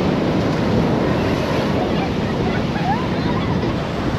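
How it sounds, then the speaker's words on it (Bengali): Rough surf breaking on the beach at Puri, a steady loud roar of waves with strong wind buffeting the microphone throughout and no clear pauses between breakers. "আর এই হচ্ছে পুরীর সেই উত্তাল ঢেউ।"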